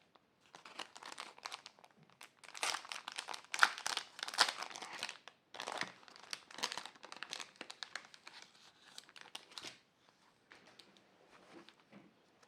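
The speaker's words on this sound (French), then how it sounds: "c'est du papier vraiment bien fin" Close, quiet crinkling and rustling of a pack of very thin paper labels being handled, irregular bursts of soft paper crackle with brief pauses between them.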